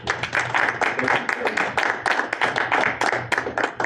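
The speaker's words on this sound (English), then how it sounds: "I'd like a round of applause." A small room at a board meeting fills with close, brisk hand clapping from a modest group, a dense run of sharp claps lasting about four seconds with no talk over it.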